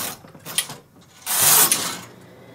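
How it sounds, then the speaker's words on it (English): A KH585 push button knitting machine carriage is pushed across the bed knitting rows, giving a rattling mechanical clatter and ratcheting whir that swells into a louder sustained rush near the end. "push the carriage over to the left, take your K carriage, knit 2 rows"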